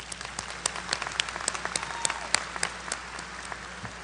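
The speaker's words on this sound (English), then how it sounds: "Please give them a round of applause." Audience applause at a university commencement ceremony: steady, dense clapping from a large crowd, with sharp individual claps standing out throughout.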